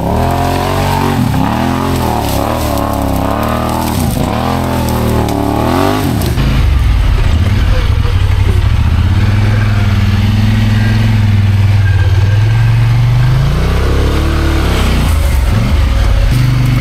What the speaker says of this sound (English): I'm now riding the Polaris 1000